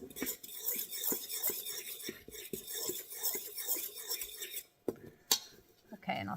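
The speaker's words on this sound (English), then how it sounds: "now I'm going to take a fork and just stir this around" A fork clinks and scrapes against a bowl while stirring cookie ingredients, a quick regular rhythm of close taps that stops near the end, with faint whispering under it.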